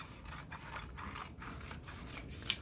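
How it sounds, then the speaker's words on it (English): Scissors snip through several stacked layers of fabric for sewing table mats, a faint, regular series of cuts about twice a second with soft rubbing between them. "So I'm going to cut this part, and so that I get 4 layers. I cut here like this."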